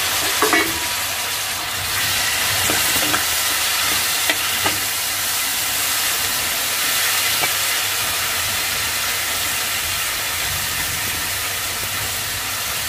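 Onion and finely chopped tomato fry in a pan for ridge gourd rice, giving a steady, even sizzling hiss with a few soft stirring scrapes early on, close and unaccompanied by speech.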